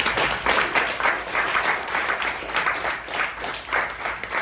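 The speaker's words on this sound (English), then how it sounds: "So another round of applause." Sustained audience applause, a full and even roar of many clapping hands that holds at a steady level throughout.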